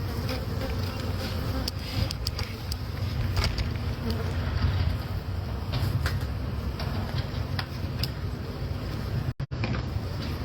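Honey bees in a hive under house eaves, being removed for relocation, buzz in a thick, continuous drone close at hand, with a brief dropout near the end.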